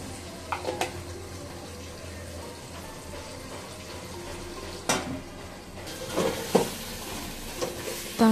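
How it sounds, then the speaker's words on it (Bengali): Chicken pieces are stirred with spices in a frying pan, giving a close, low sizzle with intermittent scraping and clattering bursts from the utensil against the pan. No one speaks. "এই মুরগির মাংসগুলো সব দিয়ে দিচ্ছি, তারপর হালকা নাড়াচাড়া করে নিচ্ছি।"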